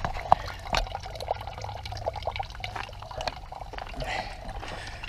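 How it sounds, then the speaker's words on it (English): Water from a Fluka stove water heater runs and drips steadily at close range, a continuous trickle with small splashes and a few brief clinks throughout. "So the water flow is doing good."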